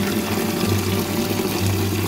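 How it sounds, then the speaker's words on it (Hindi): Water pours steadily into a tub for ducks, a continuous rushing splash with a low hum underneath, close and fairly loud throughout. "अब इस टब को पानी से फुल भरेंगे ताकि जी हमारी डक खूब मस्ती करें और पानी में नहाएं जी।"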